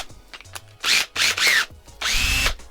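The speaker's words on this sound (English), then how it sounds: "You put it on your drill" A drill fitted with a Velcro sanding disc on an adapter whirs in three short bursts against a plastic car headlight, each burst close and loud, with brief quiet gaps between.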